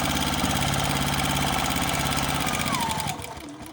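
A sewing machine runs a steady stitching line down the front of a small fabric project keeper, its motor whirring evenly and close for about three seconds before stopping.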